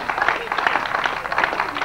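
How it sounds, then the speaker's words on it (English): Applause from a crowd for a trophy winner at a Brooklands car event, a dense steady patter of clapping sustained throughout, moderately loud and without pauses. "Give him a nice big round of applause"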